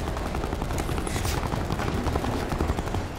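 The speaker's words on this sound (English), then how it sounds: "Helicopter coming in." A helicopter arrives in the video game Call of Duty Black Ops 4, its steady loud rotor roar filling the scene along with dense battle noise and bursts of gunfire.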